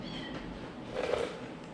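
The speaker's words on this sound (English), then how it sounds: "Oh, my kitties are meowing." Barn cats meow softly in a workshop, with one faint, drawn-out cry rising midway over a low, steady background rumble.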